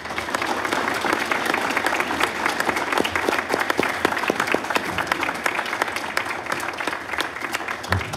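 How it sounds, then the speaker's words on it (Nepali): Dense, steady applause from a live audience at a poetry competition show, many hands clapping together at a constant level for about eight seconds with no talk over it. "डाक्टर मुस्कान पोखरेलको लागि जोरदार ताली प्लिज।"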